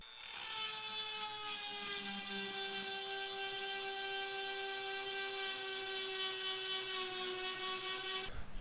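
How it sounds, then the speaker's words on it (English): An electric variable-speed chainsaw sharpener grinds a worn chain's teeth with a steady high-pitched whine, continuous and even for several seconds before cutting off abruptly at the end. "So this will be a challenge for the new chainsaw sharpener."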